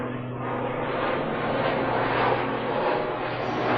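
Helicopter overhead during a long group zazen meditation session, a steady droning rotor and engine rumble holding constant and fairly loud throughout, with no talking.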